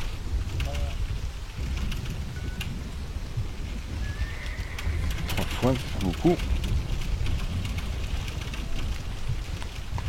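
Steady rain in the video game Black Desert Online patters throughout behind a spoken voice, with a horse whinnying briefly partway through.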